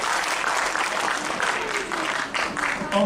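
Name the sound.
audience clapping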